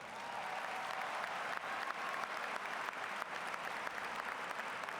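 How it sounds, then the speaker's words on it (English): An audience applauds at a high school graduation ceremony, a dense and steady wash of clapping from a large crowd that holds evenly throughout at moderate distance. "How about a round of applause for that?"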